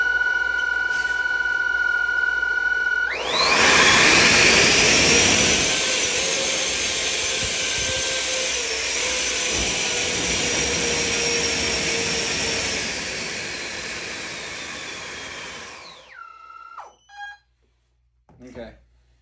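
Drone motors on a Javelin VTOL craft spinning up in plane mode, a loud rising whine that holds steady for about thirteen seconds before winding down abruptly, followed by brief faint bursts.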